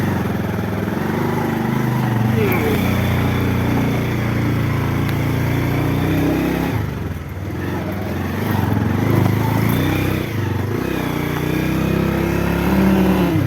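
A motorbike rides along a rough, bumpy jungle road in hilly country, its engine droning loudly and steadily, with wind and brief dips and surges as it rides over uneven ground.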